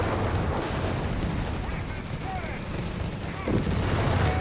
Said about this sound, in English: More artillery fire here.